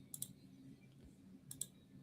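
Faint clicks of computer keyboard keys pressed in two short bursts, a couple of quick taps each, against a low steady room hum.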